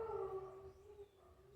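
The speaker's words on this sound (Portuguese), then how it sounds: "Quando a gente começa a gravar, mas os cachorros começam a latir" Dogs howling and whining in a long sustained wail, steady tones wavering over about a second and a half, moderately loud with no talk.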